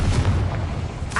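A Confringo fire spell blasts in Hogwarts Legacy, a dull, booming burst with low rumble that swells and fades over about a second, followed by a brighter crackle near the end.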